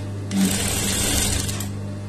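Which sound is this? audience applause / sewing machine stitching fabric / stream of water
sewing machine stitching fabric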